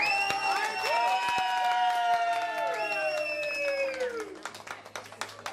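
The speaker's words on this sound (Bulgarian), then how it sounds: "Аплодисменти момчета за младото семейство!" A crowd claps and cheers right after a marriage proposal at a Bulgarian engagement gathering, steady applause and whoops lasting several seconds, with whistle-like tones and voices mixed in, fading into scattered claps at the end.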